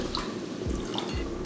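A jug of water poured over rice for cooking, splashing and gurgling steadily up close with a few drips and sloshes, no talking.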